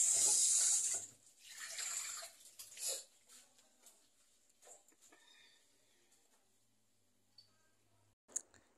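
Running tap water at a kitchen sink while dishes are washed, a loud gush at first that drops to quieter splashes, trickles and soft clinks.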